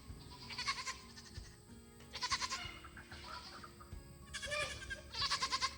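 Several goats bleat in loud, wavering bursts, a few calls overlapping, with quieter gaps between them.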